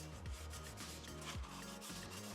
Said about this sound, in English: as you rub it over the piece that we're about to paint, it removes any dust